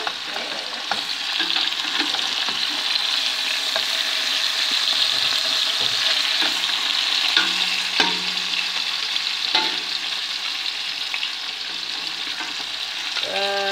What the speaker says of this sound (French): Il faut remuer